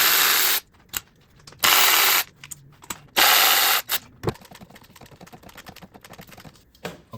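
A ratchet loosening the ignition coil bolts on a Mazda CX-9 2.5-liter turbo four-cylinder engine, close and loud, in several fast clicking bursts, followed by quieter tool handling and small metallic taps.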